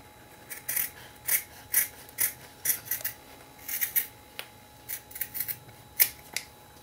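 Scissors snip through paper in a steady run of crisp, close cuts, roughly a dozen sharp snips spaced unevenly while hearts are cut out for paper embellishments, with no talking.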